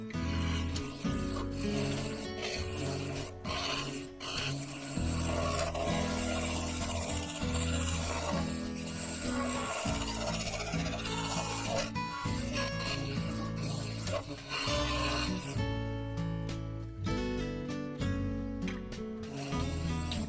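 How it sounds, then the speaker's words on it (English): A full-size carbide woodturning tool cuts into a spinning bowl of spalted beech and three-colour epoxy resin on a lathe. A continuous, close, rasping scrape sits over the constant low motor hum, with brief pauses and changes in texture as the cut shifts. "I used a full-size carbide to begin shaping the side down into the base"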